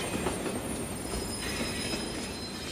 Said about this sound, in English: as he watched the train getting closer, he began to feel a little scared.